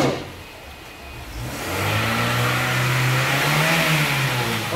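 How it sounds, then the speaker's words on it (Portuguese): A Honda Fit 1.4 with its stock exhaust idles, then revs up in a rising, sustained mid-pitched drone, close and loud. "Agora o ronco dele com escapamento original."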